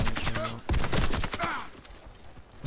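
Gunfire in the Warface shooter game, quick bursts of rapid shots followed by sharper single cracks, loud and close, with someone talking briefly over the action.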